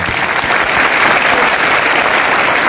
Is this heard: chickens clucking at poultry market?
no